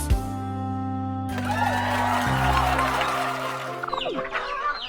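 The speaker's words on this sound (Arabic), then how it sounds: "هذه دجاجة." A farm hen clucks a few times over a sustained tonal background, with a brief sharper call near the end; no talking is heard.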